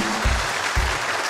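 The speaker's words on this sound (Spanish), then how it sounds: "Un aplauso para él." A studio audience claps for a participant on a Colombian television show, a short, loud burst of dense applause with a few low thumps underneath.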